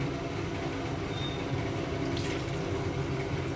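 Tap water runs in a steady, moderately close stream while freshly cut fish is washed, a continuous splashy rush with no talking.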